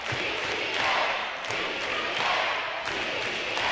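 Visiting fans cheering at a girls basketball state tournament game, a dense roaring crowd noise that swells and holds for several seconds, loud and enveloping.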